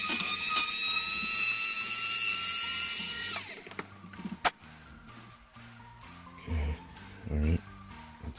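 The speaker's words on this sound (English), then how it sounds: "So let's get that drilled out." A small drill bores a hole into a 1/350 scale USS Enterprise refit model, whining steadily and sharply for about three seconds before stopping, followed by a sharp click and some handling noises.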